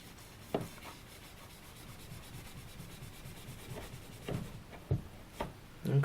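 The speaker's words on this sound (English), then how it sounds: "I got some rope here. First I'm just going to do, a little bit of sawing" A knife blade, a Schrade SCHF10, saws back and forth through rope in soft rasping strokes, close up, with a few sharper scraping catches.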